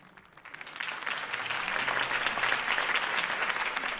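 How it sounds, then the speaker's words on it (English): Crowd applause from an audience at a campaign speech in the Telltale Batman video game, starting faintly and swelling into steady, dense clapping that fills the whole stretch without talk. "could have heard that applause"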